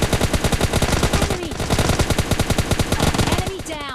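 Rapid automatic gunfire in PUBG Mobile Lite, a dense continuous burst of shots loud and close throughout, with a brief voice near the end.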